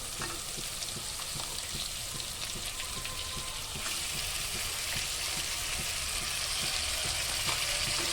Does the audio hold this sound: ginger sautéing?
yes